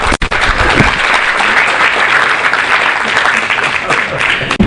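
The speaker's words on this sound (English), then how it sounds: "Let's give an applause and welcome to Margaret Davis." An audience applauds steadily to welcome Dr. Margaret Davis as she takes the stage, a dense wash of clapping that holds at full strength for almost five seconds, with no voices over it.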